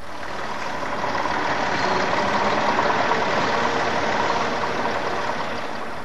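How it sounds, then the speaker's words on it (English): A diesel forklift truck runs steadily nearby, its engine giving a continuous broadband rumble and clatter at constant loudness with no talking. "This diesel engine forklift truck and its potential pollution problem"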